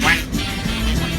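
Tour riders quack along together like ducks in a brief, loud, crowded burst of voices imitating the bird, over a steady rumbling background.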